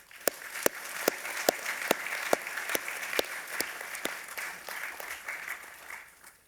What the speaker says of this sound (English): give a round of applause to your parents, partners, to all the supporters who have helped you get here